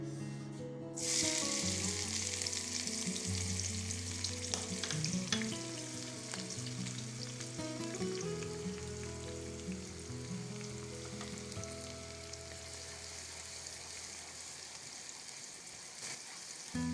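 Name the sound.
onions frying in preheated oil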